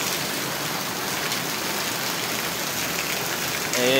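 Heavy typhoon rain pours down in a dense, loud, steady hiss, with a brief faint tone near the end.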